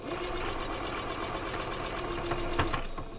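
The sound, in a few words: hand-cranked sewing machine stitching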